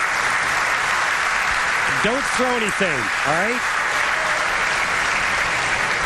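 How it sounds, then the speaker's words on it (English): Crowd applause at a professional bowling championship in 2008, steady clapping from spectators filling the hall, with a voice speaking briefly over it midway. "You hear the applause from the crowd."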